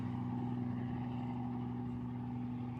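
Formula Student race car on a sprint course, a distant steady engine drone with a low constant hum that holds level and fairly quiet throughout.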